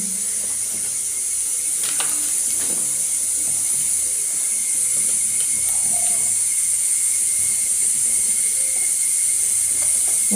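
A steady, faint hiss of water sizzling off a hot clay pot on a wood fire, with a few light clicks and taps over a quiet background.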